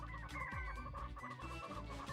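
Several chickens cluck continuously in the Ratchet and Clank video game, a busy overlapping stream of short fowl calls over steady game background sound, fairly quiet overall.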